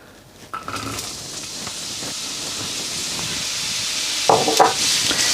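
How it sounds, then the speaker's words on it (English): Onions quick frying on high heat in hot oil for a spiced tuna masala, giving a steady hiss that builds slowly, with brief louder bursts near the start and end; no talking. "we're going to throw in the onions and we're going to quick fry them for approximately 1 to 2 minutes"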